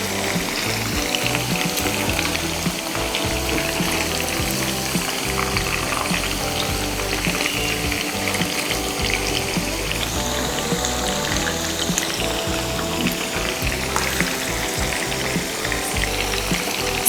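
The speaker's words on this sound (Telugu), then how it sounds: "సో ఇది ఇంకా ఫ్రై అవ్వాలి, లైట్ గోల్డెన్ బ్రౌన్ అయ్యేంత వరకు ఫ్రై చేసుకోవాలి." Boneless chicken pieces for dragon chicken deep frying in hot oil, a steady dense sizzle and bubbling that runs unbroken and fairly loud throughout.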